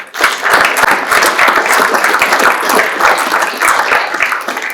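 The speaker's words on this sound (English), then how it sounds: "Let's have just one more round of applause for all of our sponsors." An audience at a business breakfast event on climate gives a steady, loud round of dense applause lasting several seconds.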